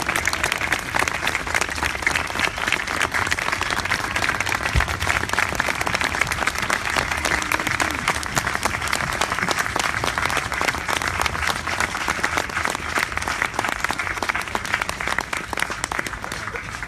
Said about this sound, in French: on va conclure sur ce beau moment d'applaudissements